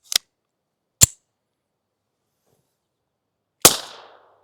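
Three suppressed shots from a TX-22 pistol fitted with a 3D printed silencer, the first two about a second apart and a third after a longer pause, each a short sharp crack with a brief tail.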